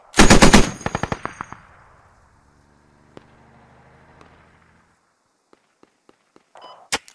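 Loud, rapid automatic gunfire bursts open the scene in the Squad military shooter game, followed by a few scattered single shots and one sharp impact near the end; no voices.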